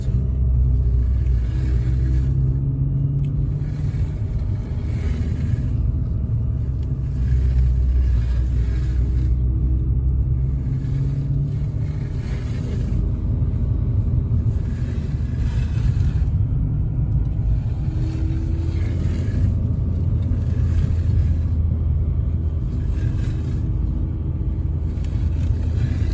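A car being driven at a children's driving school gives a steady, low engine and road rumble that swells and eases slightly as the throttle is pressed, continuous throughout with no voices.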